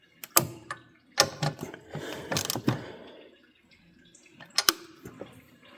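A ratchet tightens intake bolts on a 6.0 engine, giving sharp, close clicks and short bursts of ratcheting with uneven pauses, alongside some light metallic handling noise and no speech.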